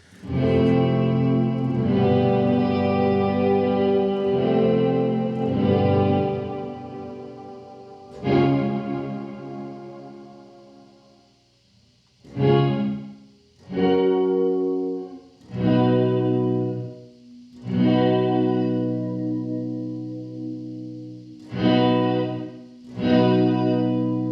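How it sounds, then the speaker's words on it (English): An electric guitar runs through a Death By Audio Rooms reverb pedal, strummed chords ringing out with long, washy reverb tails that swell and decay between attacks, loud and up close with no talking. "the depth also allows more reverb afterwards"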